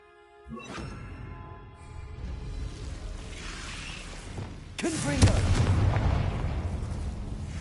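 The Incendio fire spell is cast in Hogwarts Legacy, a burst of whooshing flame that erupts sharply and then roars on loudly, following a quieter earlier crackle, with a voice speaking over parts of it.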